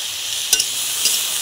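Vegetables with neem leaves stir-fried in a pan, a steady bright sizzle throughout with a couple of brief scraping stirs, close and alone.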